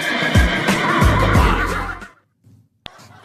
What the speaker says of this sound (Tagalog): Buhay pa pala si Kabayo